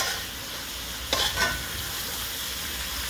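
Shrimp tossed into a pan of simmering karila curry gives a steady low sizzle, with a brief burst of splashing and stirring near the middle before the frying hiss settles back.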